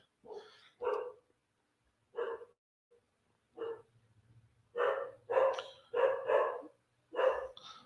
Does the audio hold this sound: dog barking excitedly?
yes